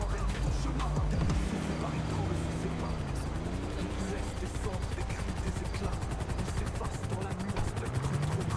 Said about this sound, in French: Oh, y a 2 hélicos carrément